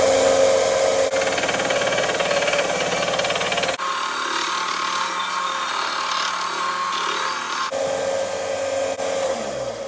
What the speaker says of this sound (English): I just want to quickly go onto the belt sander with